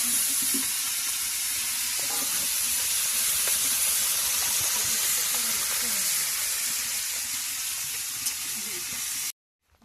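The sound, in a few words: fish frying in hot oil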